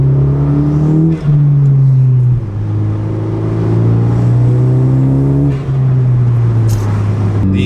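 Turbocharged 10th-generation Honda Civic Si accelerating hard, heard from inside: a loud steady engine drone climbing in pitch through several gear changes with brief dips between pulls, no talking.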